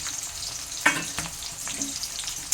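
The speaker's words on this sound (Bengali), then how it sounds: "পেঁয়াজটা আমার হালকা পিঙ্ক কালারের করে ভাজা হয়ে গেছে" Chopped onions with quartered potatoes frying in a pan for a chicken dish, giving a steady close sizzle with a few brief clinks and scrapes of stirring.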